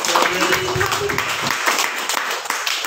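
An audience at a medical talk claps briefly, a short burst of applause mixed with room noise and some voice sound.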